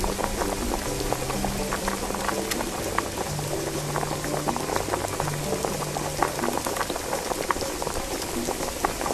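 Chuckwa, a Mayan chocolate drink, bubbles steadily at a boil in a pot in the VR cooking game Lost Recipes, set on the Yucatán Peninsula: a constant dense simmering hiss with small popping bubbles, unbroken and without talk.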